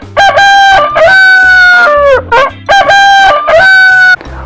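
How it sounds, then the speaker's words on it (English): A toy chicken sounds an electronic rooster crow, a loud, piercing cock-a-doodle-doo with clucks, repeated twice in quick succession and close to the microphone. "What's the sound that the chicken makes?"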